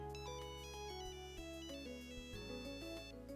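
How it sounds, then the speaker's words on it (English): A video-game phone ringtone chimes nearby in a bright, repeating electronic melody with steady rhythmic notes, clear and alone. "A ringtone could be heard nearby."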